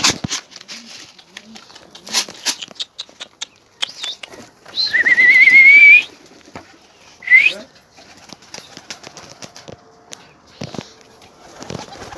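Pigeons coo softly amid scattered clicks and rustles, with a couple of louder, harsher calls standing out in the middle.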